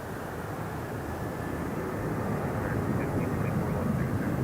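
A United Airlines jet takes off from runway 26 right at Harry Reid International Airport in Las Vegas, a steady, heavy engine roar heard from a distance that holds constant throughout.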